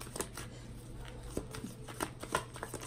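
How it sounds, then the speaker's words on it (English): Tarot cards being shuffled during a Virgo reading: soft, close riffling and brushing strokes in irregular bursts over a steady low background hum, with no talking. "I'm gonna shuffle one more time here,"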